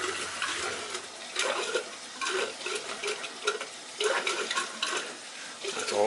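Air purges through hydronic heating pipes on a system with a replaced Taco 007 circulator, making a continuous close hissing and sputtering that crackles irregularly in uneven bursts, with no talk over it.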